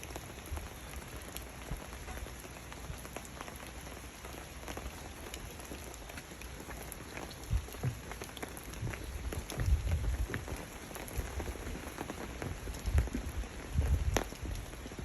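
Jungle rain falls steadily, pattering densely on nearby surfaces with a constant hiss, and heavier drops thud close by in the later seconds; no one speaks.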